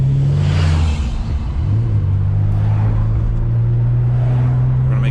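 A turbocharged Nissan Z32 project car drives along with a steady, loud low engine drone from inside the cabin, dipping briefly as the car eases off, then settling back into an even hum.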